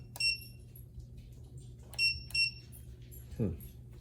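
An Emax E6 radio transmitter's beeper sounds three short, bright electronic beeps, one alone and then a quick pair, over a quiet room, with a brief low voice near the end.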